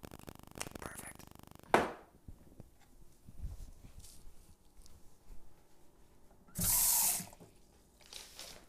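Water gushes from a kitchen tap while a rice vinegar and lime sauce is being made, a loud splashing burst at the start and another steady rush later, separated by quiet kitchen clatter.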